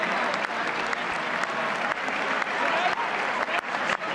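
Applause in the chamber at Trump's address to Congress, a thick, steady clapping from a large crowd with scattered voices mixed in, rolling on without a break.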